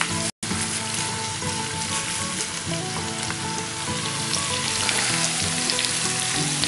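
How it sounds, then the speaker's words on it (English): Onions and curry powder frying in a little oil in a pan, a continuous close crackling sizzle with occasional stirring scrapes, steady throughout after a momentary dropout near the start. "Mix that in, heating the curry powder in the bit of oil that's in the bottom."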